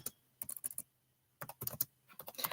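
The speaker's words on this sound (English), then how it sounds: "I'm typing that in to see if that is true." Bursts of typing on a computer keyboard, quick clusters of close, crisp key clicks separated by a short pause, with no voices.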